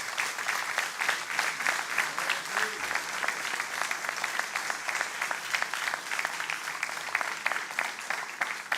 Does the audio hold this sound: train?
no